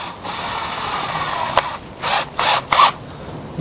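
Short ratcheting bursts from a screwdriver fastening pieces together on a dome roof skeleton, three or four quick whirring pulses after a sharp click, fairly close, with no talk.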